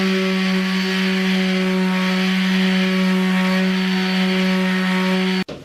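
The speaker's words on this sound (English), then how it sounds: "Having cured for one night, the epoxy fairing was sanded" Sanding of cured epoxy fairing on a wooden boat's outer stem gives a loud, continuous abrasive whine with a steady tonal hum, which cuts off abruptly near the end.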